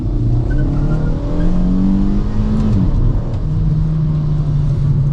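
A Kia Forte GT sedan accelerates hard in sport mode, its engine rising in loud, steady revs with a rumbling exhaust note that climbs in pitch over about five seconds, heard close and without any voices.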